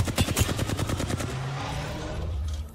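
Rapid automatic gunfire from an Apex Legends match, a burst of sharp repeated shots over the first second or so, then fading into a softer rumble of continued action and ambience.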